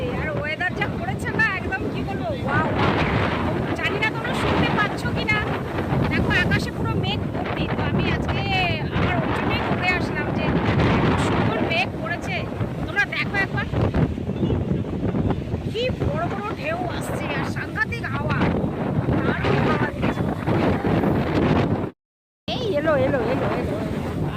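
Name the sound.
strong wind at the sea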